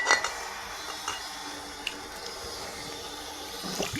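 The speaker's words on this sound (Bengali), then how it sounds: "তুমি আমার হাতে একটু জল দাও" Water splashes onto hands in a kitchen during drink preparation, a faint, close trickle with small clinks and splashes over a few seconds.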